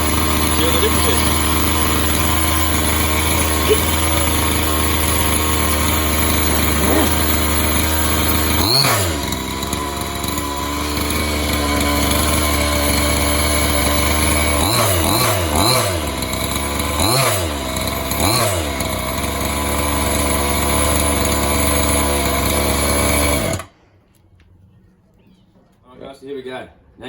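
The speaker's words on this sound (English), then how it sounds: "Now you've heard what it sounds like with the standard exhaust." Maverick ST motorcycle engine running with its standard exhaust muffler, a close, buzzy idle with several quick revs climbing and falling, then cut off abruptly near the end, leaving quiet background.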